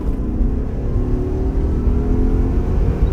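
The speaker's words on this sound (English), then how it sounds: "go ahead and floor it and get it up to like 50 miles per hour" A BMW E34 car accelerating at full throttle, its engine droning steadily and loudly from inside the cabin with a rising tonal whine over a dense low rumble.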